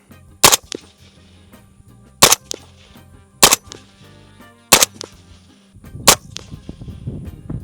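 A PSA JAKL rifle fires Winchester Super Suppressed rounds at a range, five sharp, muffled cracks spaced a second or two apart, each short and punchy with faint low rumble between shots.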